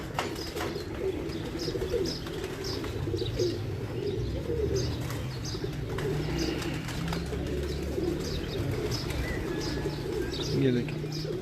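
A loft of Doctor Mirza Jameel's Ali-wale pigeons coos in a low, rolling chorus with occasional chirps and a wing flutter, while someone talks intermittently nearby.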